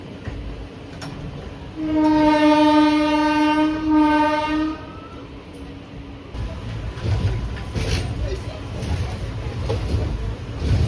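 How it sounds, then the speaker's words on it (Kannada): A loud, sustained train horn blares for a few seconds, then the rumble and rattling clatter of the Chamarajanagar–Mysuru–Tirupati Express rolling along the tracks continues. "ಇಲ್ಲಿಂದ ಈ ಟ್ರೈನ್ ಜರ್ನಿನ ಮಾಡ್ತಾ ಇದ್ದೀನಿ"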